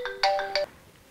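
A mobile phone ringtone plays a short, bright melodic phrase in two quick bursts, close and clear, with no voices over it.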